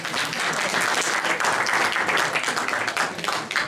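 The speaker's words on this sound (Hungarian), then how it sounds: "megérdemelt tapsot." Audience applause fills the whole stretch at a jelly-cooking and pogácsa-baking competition in Bogács, Hungary: dense, steady clapping from a crowd, loud and close, with no pause.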